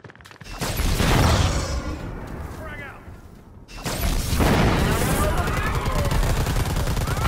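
Two heavy blasts from a frag grenade in the shooter game Predator: Hunting Grounds, each a loud sudden boom that rolls into a long rumbling decay, the second following about three seconds after the first, with gunfire clatter around them.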